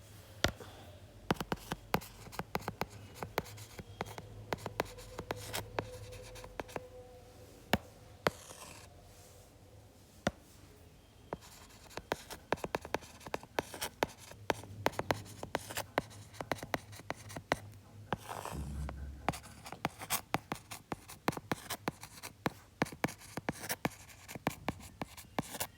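Notes written by hand on paper, the pen scratching steadily in close, quiet strokes with brief pauses, alone without any voices.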